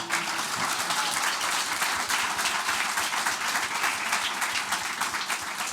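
Sustained audience applause at a live fan event with footballers in Dublin, a dense steady wash of many hands clapping close and loud for the whole stretch, with no break.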